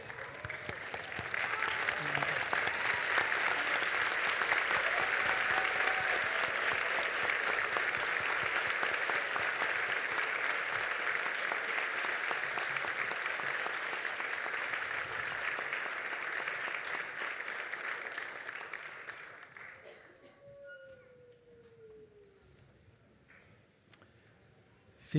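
An audience at a university graduation ceremony rises and applauds a graduate, a steady, dense wash of clapping sustained for about twenty seconds before fading away.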